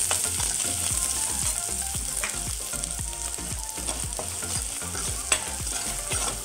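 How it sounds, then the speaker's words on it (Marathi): Chicken with masala is stirred in a frying pan, a spoon scraping in a quick steady rhythm over a constant loud sizzle, close up with no speech. "आता हे व्यवस्थित सगळं मसाले आहेत ना ते मिक्स करून घ्यायचे।"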